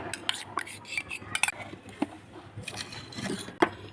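A spoon clinks and scrapes against a container in uneven taps while mixing ice cream mix with syrup, close and fairly quiet.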